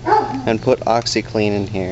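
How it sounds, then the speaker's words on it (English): Dogs bark and yip in short, sharp bursts nearby while someone talks through them during a SNES yellowing-removal job. "I apologize for the dogs barking."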